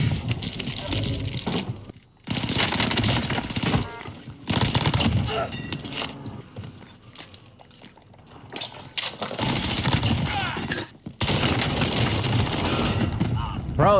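Bursts of rapid automatic gunfire come from a first-person shooter video game, loud and dense in several long volleys with brief gaps between them.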